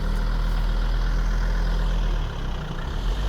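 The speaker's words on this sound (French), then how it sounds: "J'adore le bruit du ralenti, par contre, vraiment, c'est ma passion, les gros diesels comme ça." A large diesel engine, apparently a Volvo, idling close by, a steady low rumbling throb that holds evenly throughout.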